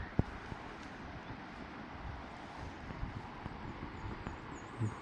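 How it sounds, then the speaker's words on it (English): Steady outdoor wind rushing past the microphone at a quiet wilderness rest spot on a solo backcountry hike, a low continuous roar with a few faint bumps and no talking. "Listening to the wind."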